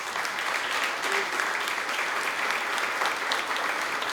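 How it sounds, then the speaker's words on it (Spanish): Applause from an audience of several hundred at a political gathering in Córdoba, Argentina: steady, dense clapping filling the room for about four seconds at an even, sustained level. "quiero un aplauso para él"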